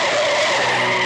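A single loud, sustained screech of car tires skidding hard during an accident, filling the whole brief moment without pause.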